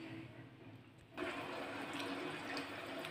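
Water pours into a pan for paneer chilli gravy, a sudden rushing splash starting partway through and continuing steadily, close by after a quiet kitchen lead-in.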